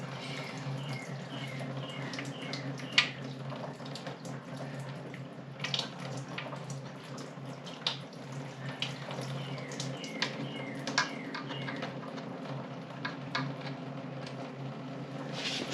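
Coolant draining out of the water jacket of a Ford 2.3L four-cylinder fitted in a 1931 Model A hot rod, a steady watery trickle and splash running on throughout with a few sharper drips.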